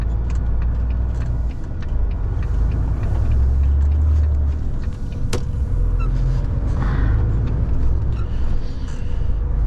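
A car moves through city traffic at signal-controlled intersections, its steady low engine and road rumble filling the cabin throughout with only small changes in level.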